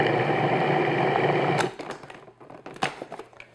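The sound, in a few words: food processor pulsing apple pie crust dough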